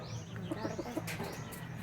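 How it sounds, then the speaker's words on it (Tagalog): Pigeons cooing close by, a few soft, low rounded coos in a short rhythmic series with light chirps and faint wing flutter around them. "Mga kalapati"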